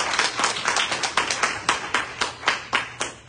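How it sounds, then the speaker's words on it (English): A church congregation claps hands at a Father's Day service, a lively run of sharp, fairly regular handclaps close by with a loosely shared rhythm and no talk over it. "Can we celebrate with just 1 second a clap of the hands for all the future fathers?"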